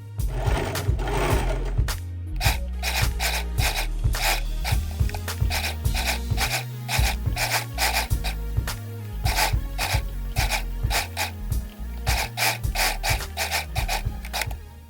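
A sewing machine runs steadily, stitching hemming tape onto horsehair braid for a detachable peplum, with a rapid mechanical rhythm of needle strokes and brief pauses as the fabric is guided.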